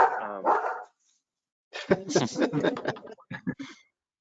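A dog barks in the background of an online committee meeting, with a few sharp barks at the start, then a pause before more speech-like sounds and barking mixed together.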